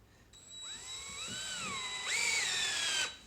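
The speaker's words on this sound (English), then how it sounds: "we're just going to run 2 screws through the oil drain here, and it'll hold it in place" A power drill drives two screws through the oil drain of a 6.5L turbo diesel turbocharger, its motor whining and rising in pitch as each screw bites, then stopping abruptly; close and loud with no talking.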